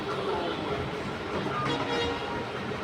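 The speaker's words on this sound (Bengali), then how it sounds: "এই ট্রেনটা আবার ছেড়ে দিয়েছে" A train pulling away from Baneswar railway station near Alipurduar rumbles steadily with a continuous broadband roar, heard close and fairly loud throughout.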